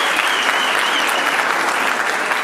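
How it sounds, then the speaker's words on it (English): Loud, dense audience applause filling a hall, steady continuous clapping from a large crowd throughout. "they're not clapping for you, they're clapping for me"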